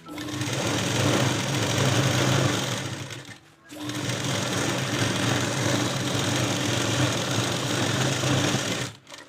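A sewing machine runs loud and close while stitching a chudidar pant, a steady mechanical whir in two long runs separated by a short pause, ending abruptly.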